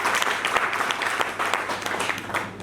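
Listeners at a business meeting in Azamgarh break into a hearty round of applause, a continuous, fairly close patter of many hands clapping for a few seconds without speech.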